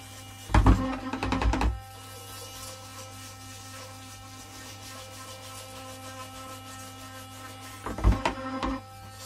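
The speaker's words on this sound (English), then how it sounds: "this should give effectively an ultrasonic cleaning effect, like you would get in a large ultrasonic cleaner" An ultrasonic brush works on a circuit board, giving two short bursts of harsh buzzing scrubbing, close and moderately loud, separated by a long stretch of steady low electrical hum.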